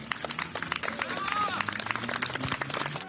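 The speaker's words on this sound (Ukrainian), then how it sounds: "Перехожі дякують музикантам оплесками, криками «Браво!»" Street musicians' audience of passersby clapping and cheering outdoors, a steady patter of applause mixed with crowd noise and voices, with a whistle-like bright tone sweeping through the middle.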